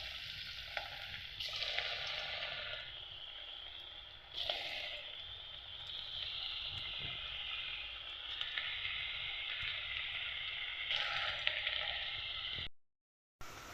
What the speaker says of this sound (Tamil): எண்ணெய் சூடாயிட்டு இப்போ பகோடாவை போட்டுடலாம்